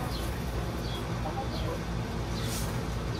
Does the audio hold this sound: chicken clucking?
yes